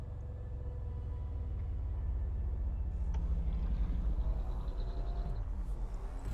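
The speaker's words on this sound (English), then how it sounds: "So just lift off, put your landing gear away, fly out on the green side." A spaceship lifts off in the game Elite Dangerous with a low, steady engine rumble that builds and stays throughout. Faint tonal hums and a brief click sit over the drone, and no one speaks.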